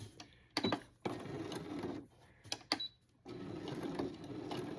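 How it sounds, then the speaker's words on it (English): A sewing machine back stitches a lavender-filled knee pad in short runs of needle stitching, close and quiet, stopping and restarting several times with brief clicks between runs. "So I'm back stitching."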